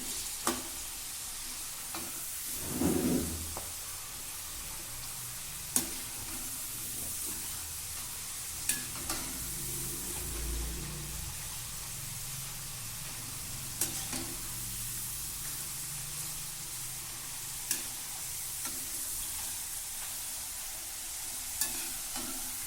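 Cassava chips fry in hot oil with a steady, crackling sizzle, broken by occasional sharp clinks and a brief louder burst of bubbling near the start.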